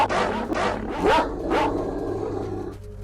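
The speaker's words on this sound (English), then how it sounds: "These dogs take over this area." Dogs bark in the STALKER: Shadow of Chernobyl video game, several loud, close barks and yips in quick succession over a low background hum, with no speech.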